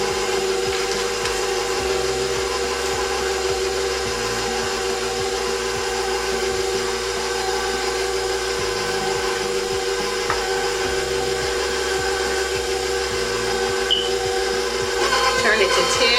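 A stand mixer set to stir mixes cupcake batter, its motor giving a steady, even whir that runs unbroken for the whole stretch.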